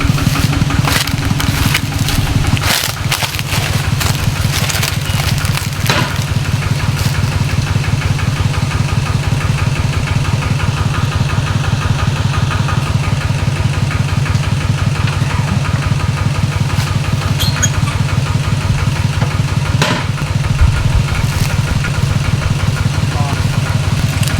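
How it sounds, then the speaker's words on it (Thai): A small hand-started two-wheel walking tractor engine idles nearby in rural Surin, Thailand, chugging steadily and rapidly without pause, loud and close the whole time. "สตาร์ทมือเนาะเพราะว่าเป็นรถคันเอ้ยสตาร์ทด้วย นั่นเนาะเพราะว่าเป็นรถไถนาเดินตาม"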